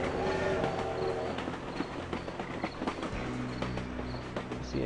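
Passing train in the point-and-click adventure game Thimbleweed Park, a dense rumbling clatter with rhythmic rail knocks and a low drone shifting midway, steady and fairly close for the whole stretch, with no speech.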